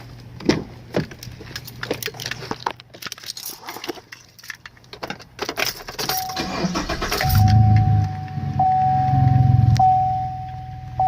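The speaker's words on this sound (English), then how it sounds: "We're gonna turn on the truck now and put the AC on blast" Keys jangle and rattle with a few clicks before a 2014 Chevrolet Silverado pickup truck engine cranks and starts, then settles into a steady low idle with a faint whine.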